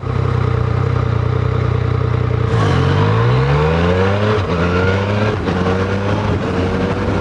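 Yamaha MT-09 Tracer triple-engine motorcycle under way, loud and close, its engine note rising and falling through several gear changes with sweeping revs and a steady throaty drone throughout.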